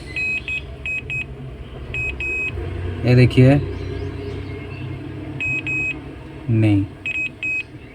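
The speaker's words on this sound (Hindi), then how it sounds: "थोड़ा सा मल्टीमीटर बजर मोड में घुमा ले, कहीं हमको शॉर्टिंग मिल रहा है क्या" Multimeter buzzer in continuity mode, used to hunt for a short on a mobile phone circuit board, beeps in repeated short bleeps with a few louder bursts, while someone talks over it.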